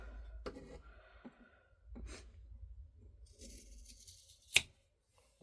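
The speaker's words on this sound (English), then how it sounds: "So, heavy duty scissors." Heavy duty scissors cutting cotton floss, giving a few quiet, close snips and crunchy cuts separated by pauses, with one sharper click near the end.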